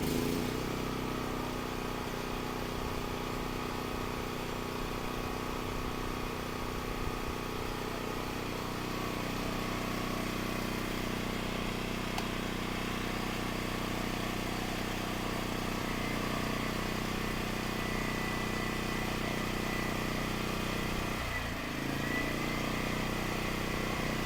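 A Harbor Freight Predator 13,000W tri-fuel generator runs steadily, a loud continuous engine drone with a constant hum throughout and no talking.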